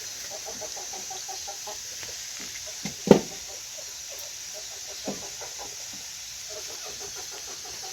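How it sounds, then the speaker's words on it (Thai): On a quiet morning at a house among the fields, chickens cluck softly in scattered bursts at a moderate distance, with one brief sharp knock partway through. "ไก่"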